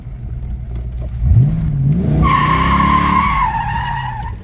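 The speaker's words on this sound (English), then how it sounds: "It does not take but a touch of the clutch and a touch of the gas to cut the wheels loose." A 1990 Ford Mustang 25th anniversary car squeals its tires as the wheels spin loose, the engine revving up under a loud rising screech that holds for a couple of seconds, close and without talk.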